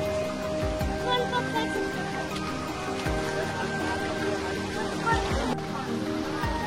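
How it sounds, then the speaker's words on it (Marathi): Zenith Waterfall at Khopoli near Lonavala roars as a steady, broadband rush of falling water, with a constant wash throughout and occasional low thumps and handling bumps close to the recorder. "इथे मस्त वॉटरफॉल होत आहे"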